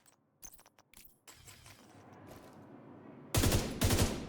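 Rapid gunfire in a shooter video game, a burst of quick shots building up and then loud dense volleys at the end, close and sharp with no talk over it.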